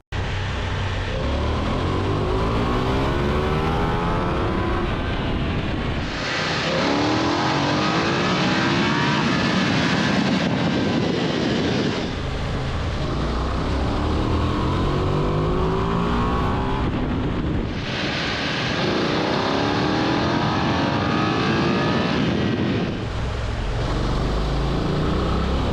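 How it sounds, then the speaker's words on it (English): BMW F 900 XR and Ducati Multistrada V2 S motorcycles accelerating hard from 50 to 100 km/h in the same gear, with loud engine roar rising in pitch through repeated runs, separated by brief drops in engine note, no voices. "where we accelerated from 50 to 100 kilometers per hour in the same gear"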